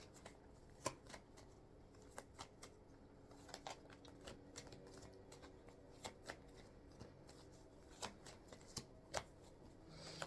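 A deck of cards is shuffled close up, with repeated crisp riffling bursts and sharp snaps at an uneven rhythm over a quiet background, with no talking.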